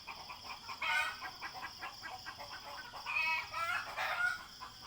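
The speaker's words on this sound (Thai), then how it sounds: "เป็นไก่พันตัวเล็กๆเหมือนคล้ายๆไก่แจ้เนาะ" Small bantam-like chickens crowing in the morning in Phra Saeng, Surat Thani, several calls overlapping with clucks at moderate distance, rising in bursts against a quiet rural background.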